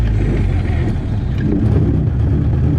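A 1937 Austin 7 car engine running in second gear, a loud, steady mid-low drone from close by, continuous with no clear revving changes and no talking.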